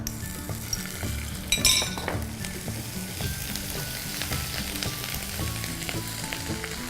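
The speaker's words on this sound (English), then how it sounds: "I'm going to add about 2 to 3 tablespoons of oil. Into the oil goes the minced ginger" Minced ginger dropped into 2 to 3 tablespoons of hot oil in a warm pan for cauliflower, a burst of loud crackling sizzle that settles into a steady fry with light clinks of utensils.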